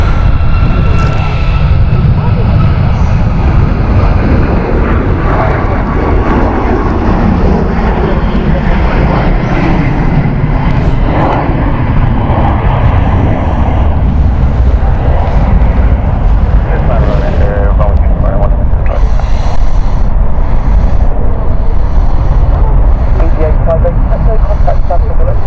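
A Ryanair airliner passes very close at Stansted Airport, a thunderous, rumbling engine roar that stays loud throughout, with a rising whine as it goes by and people talking over it.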